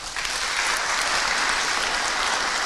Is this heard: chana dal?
no